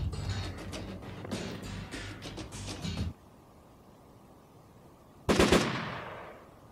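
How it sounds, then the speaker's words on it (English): Video game gunfire in Arma Tactics: a sustained rattling burst of rapid shots for about three seconds, then a lull, then one sharp loud report. "Did that guy just shoot at me without turning around?"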